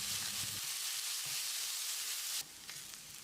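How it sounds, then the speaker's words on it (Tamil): Chopped onions with curry leaves and dried red chillies frying in a pan for a mushroom gravy, giving a steady close sizzle and hiss that drops slightly in level near the end, with no talking. "வெங்காயத்தை நல்லா பொன்னிறமாக வதக்கணும்."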